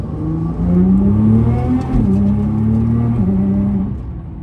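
A tuned, lightly modified Nissan GT-R accelerates hard, its engine climbing in pitch through rising revs with a brief dip at each shift, loud and close throughout.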